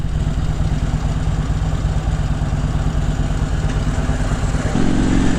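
A motorcycle engine runs close and loud with a steady, chugging idle rhythm, then swells into a louder rev near the end.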